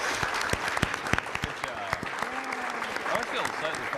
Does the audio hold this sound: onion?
no